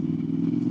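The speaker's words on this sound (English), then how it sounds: "I fucking love that exhaust." A motorcycle exhaust gives a steady, throaty low drone, close and loud, holding an even note with no clear revving.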